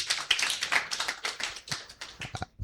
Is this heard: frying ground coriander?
no